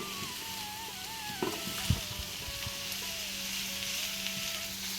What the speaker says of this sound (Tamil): ஒரு தடவை நல்லா மிக்ஸ் பண்ணிக்கிறேன் அதுக்கப்புறம் திரும்ப நான் மசாலா போடுறேன்